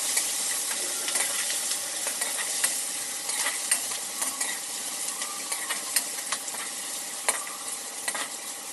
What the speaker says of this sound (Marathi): दहा बारा लोकांसाठी आहे कांदा घालूयात